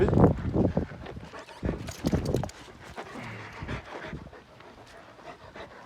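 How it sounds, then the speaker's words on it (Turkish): An Anatolian shepherd dog pants rapidly and heavily up close, with some rustling and shuffling movement around it. "Bu ne Anadolu çoban köpeğimiz değil mi bu?"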